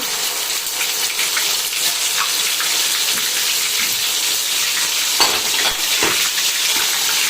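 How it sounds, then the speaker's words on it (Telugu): Ginger paste sizzles and crackles steadily in hot oil for a Telugu-style gongura pickle, loud and close. A few stirring scrapes punctuate the frying, and there is no talk. "పచ్చి వాసన పోతట్టు అల్లము వేయించాలి."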